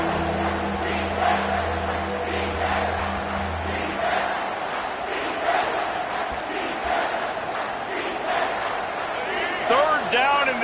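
Stadium crowd at a college football game against UCLA, a loud sustained roar of cheering and shouting that fills the whole stretch, with a low hum early on and a commentator's voice over it.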